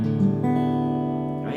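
A slow guitar downstroke strummed across the strings, each string sounding in turn like a ripple, then ringing on as one sustained chord, close and clear with no talking.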